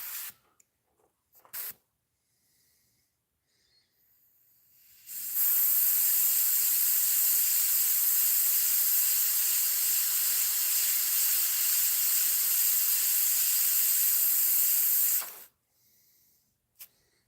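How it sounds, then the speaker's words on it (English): Spray paint hisses steadily onto a musky crankbait fishing lure through a stencil, one continuous close, loud burst lasting about ten seconds, with a few faint clicks and handling noises before and after. "That way we can spray it."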